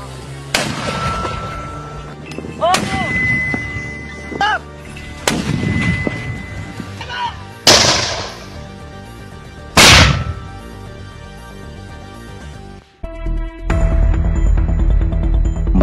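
A small, one-man commando mortar of about 6 kg fires in a series of sharp, loud reports spaced a few seconds apart, mixed with whistling tones, before a deeper rumbling passage takes over at the end.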